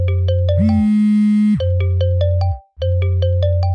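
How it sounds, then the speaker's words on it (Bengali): A mobile phone ringtone for an incoming call plays loud and alone, a bright melodic phrase repeating with a short pause near the end. "আজ আবার ফোন করেছে।"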